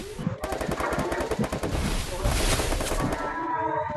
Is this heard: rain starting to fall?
no